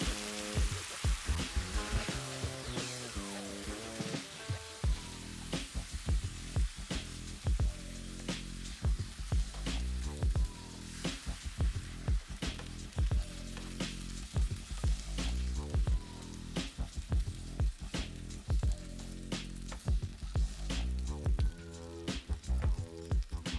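Two cans of black beans sizzle in a pan, a soft, steady hiss with frequent scraping stirs and clicks of the utensil against the pan.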